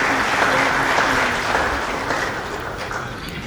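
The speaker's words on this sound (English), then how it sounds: "Can we clap hands for them" Audience applause for the national football team at a CAF gathering, a full, sustained burst of many hands clapping that gradually eases off toward the end, with no speech over it.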